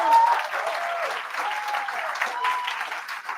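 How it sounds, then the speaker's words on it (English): Applause from an audience for a speaker's mother, praised as an amazing cook, fills the room at a steady dense level from start to finish, with no voice on top. "Give her a round of applause."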